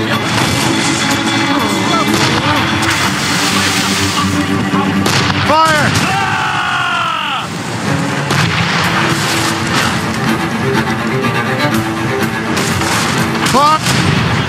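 Ship cannons fire during a naval battle against a British schooner in Assassin's Creed Rogue: heavy booms and crashes mixed with creaking timber and shouted orders, loud and close over about fifteen seconds.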